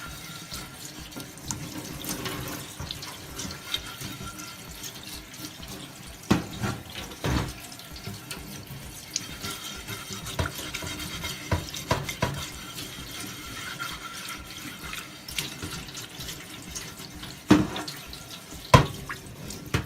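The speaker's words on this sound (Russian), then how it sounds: "Сейчас я еще ее под краном ополосну" A frying pan rinsed under a running kitchen tap, a steady hiss of flowing water with occasional clanks and splashes as the pan shifts in the sink, no talk.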